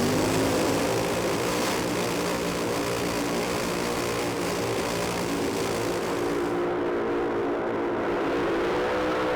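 A drag-racing motorcycle screams down the strip at full throttle, a loud, dense roar that holds steady and then eases off near the end, heard alone without talk.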